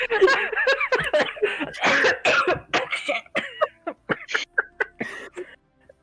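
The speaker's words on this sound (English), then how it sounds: "I'm sorry, I had a coughing fit." A close, loud burst of repeated coughs and throat-clearing, irregular and rapid, with breathy gasps between them.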